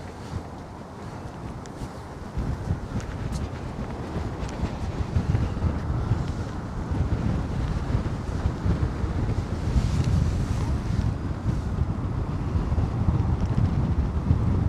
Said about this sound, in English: The wind is coming over from Beyonce's direction.